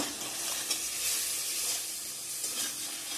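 Tomato paste with ground cumin, coriander, turmeric, chili powder and salt frying in a pan for a potato and paneer curry. A steady, close sizzle runs throughout with soft stirring scrapes and no voices.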